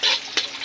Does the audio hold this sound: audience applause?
no